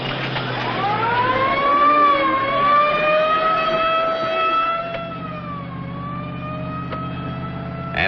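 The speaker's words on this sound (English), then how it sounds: "Ambulance, huh?" Wailing siren of an ambulance in a 1940 horror thriller, loud and steady with slow rising and falling pitch, joined by a low engine-like hum in the second half; no talking.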